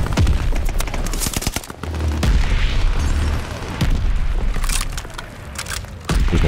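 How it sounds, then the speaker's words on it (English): Friendly mortar strikes in Call of Duty: Vanguard land as a run of heavy booming explosions, mixed with gunfire bursts and crackling debris. The blasts are loud and continuous, with deep low-end thumps recurring throughout. "Friendly mortar fire coming."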